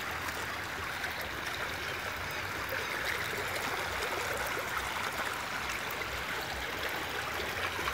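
A creek in full flow, steady rushing and gurgling water heard close up as a constant broadband wash, with no voices over it.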